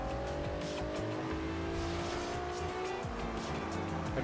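Nissan GT-R race car in Forza Horizon 2, its engine droning steadily at high revs while the tires squeal through a continuous, loud stretch of hard cornering.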